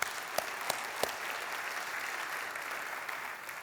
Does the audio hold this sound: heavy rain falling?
no